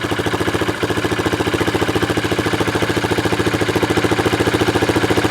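A Honda CRF230 motorcycle engine running on half choke, a loud, close, steady idle with an even rapid pulsing that holds throughout.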